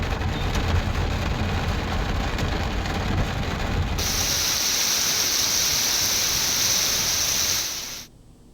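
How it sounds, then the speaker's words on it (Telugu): Heavy rain pouring in Hyderabad during a spell of nonstop downpour, a loud, steady broadband hiss that changes texture midway and cuts off abruptly near the end. "నిన్న నుంచి కూడా ఎడతెరిపి లేకుండా వర్షం కురుస్తోంది"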